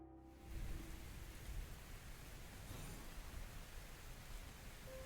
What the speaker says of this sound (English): We got hail.